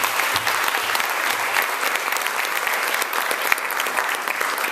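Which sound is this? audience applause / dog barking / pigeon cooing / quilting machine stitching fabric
audience applause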